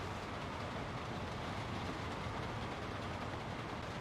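A construction train rolls along the track in Workers & Resources: Soviet Republic, giving a steady, even rumble of wheels and rail noise that stays faint and continuous throughout.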